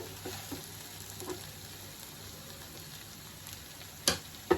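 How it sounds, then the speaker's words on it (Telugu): A spicy egg curry fries in a pan and gets stirred now and then. A steady low sizzle runs throughout, with a few soft scrapes and a sharper clink near the end. No one speaks. "మనం కదిపోద్దండి, దీన్ని స్మూత్గా హ్యాండిల్ చేయాలి"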